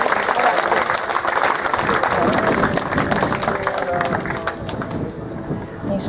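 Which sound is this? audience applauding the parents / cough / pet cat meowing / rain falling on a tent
audience applauding the parents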